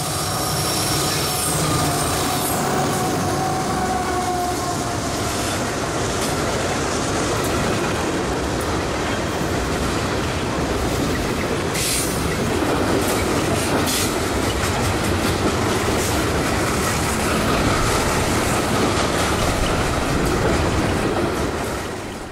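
Freight train K987, hauling southbound rock loads near Ocala, rolls past close by with a steady rumble of wagons, rhythmic clickety-clack over rail joints and occasional wheel squeal.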